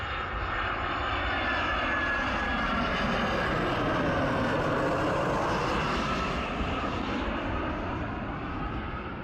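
A loud airplane roars overhead near an airport on a remote island, its engine noise swelling and sweeping in pitch as it passes, steady and dominant throughout.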